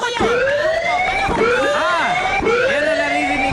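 A game show siren sound effect marking an extra hot question, loud and alone, repeating as three rising and falling wails over about three and a half seconds.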